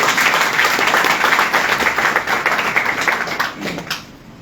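An audience bursts into applause at a product training meeting, many hands clapping loudly and densely together, then thinning and fading out over the last second.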